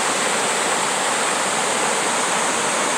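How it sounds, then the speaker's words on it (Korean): Geumryong, the eleventh of the twelve waterfalls on Seongchisan in Geumsan, pours with a dense, steady roar of falling water, loud and close, with no other sounds. "금룡 폭포예요, 금룡."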